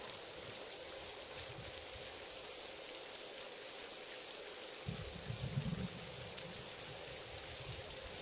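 Steady rainfall hisses evenly throughout, with a soft low rumble briefly swelling midway; no voices.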